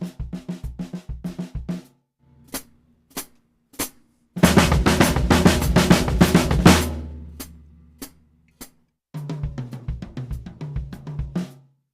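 Snare drum playing a rhythmic theme at a drum clinic, then the same pattern with bass drum kicks added underneath, loud and close, with sparse single hits and pauses between passages.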